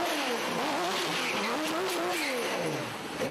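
A tuned Porsche flat-six engine, built for about 360 horsepower with an 8,500 RPM redline, revs loudly and steadily, its pitch rising and falling in sweeping waves, close and continuous with no talk.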